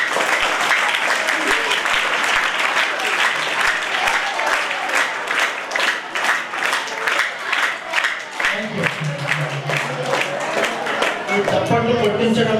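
Sustained dense applause from a school audience at a Red Cross road safety awareness event, loud and steady throughout, with a low tonal hum entering toward the end.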